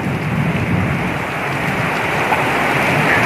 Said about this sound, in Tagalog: Ang lakas ng ulan, mga boss.